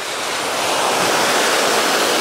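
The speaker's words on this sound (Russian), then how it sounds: "волны маленькие," Small sea waves wash steadily onto a busy hotel beach in Alanya, Turkey, a continuous, close, even surf hiss with no talking.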